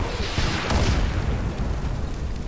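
A tank destroyed in an explosion in the World War II shooter game Sniper Elite 4: a loud, dense boom with rumbling debris that swells and holds for a couple of seconds before easing off slightly.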